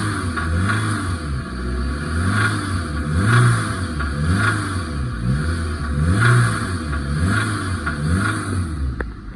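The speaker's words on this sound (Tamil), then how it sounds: "ஆனால் ஆக்சிலேட்டர் கொடுக்குறேன் பாருங்கள்." A 2006 Maruti Swift MPFI car engine with a complaint is revved repeatedly, the throttle blipped in regular surges about every second that rise and fall over a rumbling idle, up close and with no talking.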